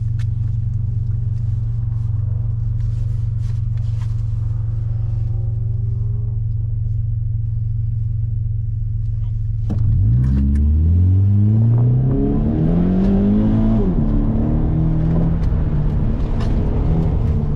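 A car runs an SCCA autocross slalom course in Washington DC, a low steady engine drone that surges into a loud rising and falling revving sequence partway through as it accelerates between cones.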